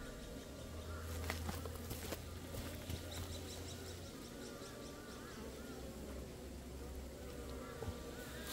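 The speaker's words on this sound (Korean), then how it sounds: "동양종 꿀벌 결국은 잡혀 나왔습니다." Asian honeybees buzz at a wooden hive in a Korean apiary, a steady, fairly faint hum with a few sharper passes of individual bees flying close.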